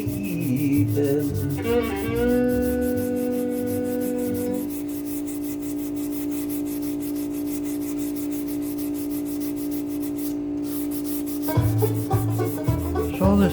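Wood being sanded by hand gives a continuous scratchy rubbing in rapid back-and-forth strokes, close up, while music with sustained tones plays underneath.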